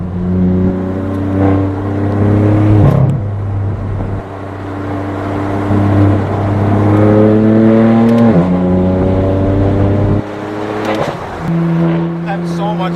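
A straight-piped BMW M4 F82 revs its loud exhaust up and down in repeated surging pulls, a deep droning tone climbing and dropping several times, close and dominant.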